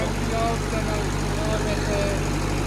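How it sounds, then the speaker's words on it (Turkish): A 46 kVA generator engine idles smoothly at close range, a steady low rumble, while someone talks over it throughout. "Güzel rolente bir şekilde zorlanmadan çalışıyor ve Motoru suyu çekiyor."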